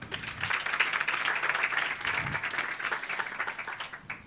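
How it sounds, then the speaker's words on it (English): Audience applause at a community empowerment event for pageant finalists, a steady round of clapping from a moderate distance that sustains at even level throughout. "May I ask you to please give them a round of applause."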